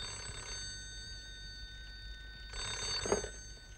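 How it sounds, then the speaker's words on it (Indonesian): In an Indonesian home, a telephone bell rings in two faint bursts separated by a short pause, heard quietly at some distance against a low background hum, with no voices. "Angkat dulu teleponnya tuh."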